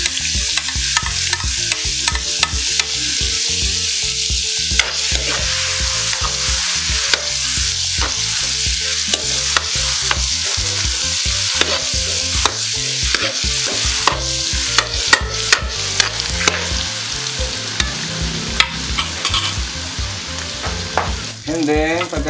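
Chopped ginger and garlic sauté loudly in a hot oiled pan, a dense crackling sizzle full of rapid pops and repeated metal spatula clatter as the pieces are stirred, with no voices.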